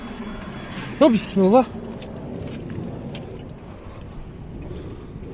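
A 2008 Daewoo Matiz with a manual gearbox idles steadily close by, its low, even engine hum running throughout while someone speaks briefly over it.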